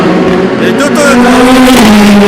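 Two Toyota prototypes scream past at Le Mans during 24 Hours qualifying, a loud continuous engine whine with a falling pitch as they go by, under a commentator's voice.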